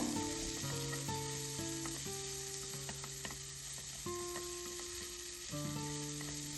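Sliced onion sautéing with cumin and fennel seeds in a pan for ivy gourd masala, giving a steady, moderate sizzle throughout under tonal background music.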